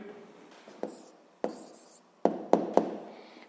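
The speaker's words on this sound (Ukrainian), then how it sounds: "Ну що ж, записуємо відповідь." A pen writes an answer to a 7th-grade physics exercise on paper, producing a few quiet scratchy strokes followed by a quick cluster of sharper taps near the end, with no voices.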